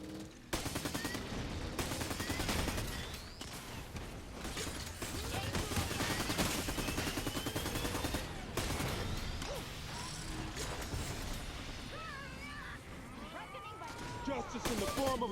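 Near-constant weapon fire in the LawBreakers video game, rapid loud bursts and volleys with sharp impacts and crashes throughout, overlapping with in-game voices and other action sounds.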